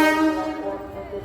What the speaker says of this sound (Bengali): আবার একটা ট্রেন ঢুকছে